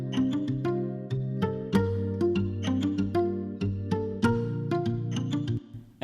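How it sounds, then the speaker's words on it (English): Guitar and analog synth chords from a Christmas pop song move through a changed progression, sustained layered chords with plucked accents in a regular pulse, close and full, no voices. "I have the guitar and the analog chords that kind of play out through the whole song"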